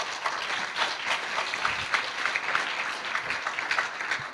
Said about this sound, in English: I would like you guys to give your applause to our speakers.